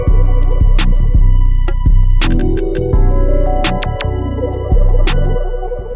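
An unmixed melodic trap beat at 168 BPM plays loud and close, with booming bass, sharp hi-hat and snare hits, and a repeating melodic line, no voices.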